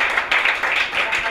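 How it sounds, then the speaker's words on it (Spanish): An audience at the Metalcry Summer Fest 2014 metal festival applauds in a dense, steady wash of clapping, loud and close, lasting only a moment. "Un aplauso."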